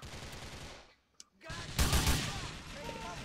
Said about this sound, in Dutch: Nou, Nico zit hier ook een beetje te schieten ergens.